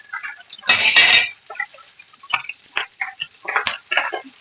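Green chilies drop into hot cooking oil with curry leaves for a ginger-coriander pulusu. A loud burst of spluttering comes first, then sharp, scattered pops and crackles close by.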